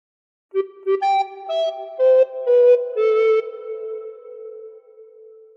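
Recorder plays a short phrase of Happy Birthday, clear breathy notes stepping up in a simple tune, close and alone after a brief silence.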